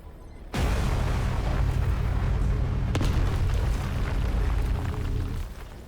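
A loud explosion in the video game Mass Effect, a sudden booming blast that holds as a dense, sustained roar for about five seconds and then cuts off.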